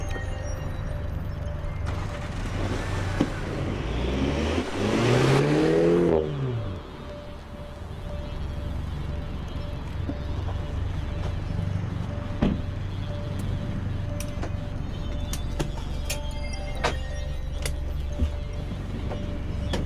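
A MINI John Cooper Works road car and a GTC race car set off from a Le Mans-style start on a track: one engine revs hard with a rising pitch for a couple of seconds, then drops back to a lower rumble with scattered clicks.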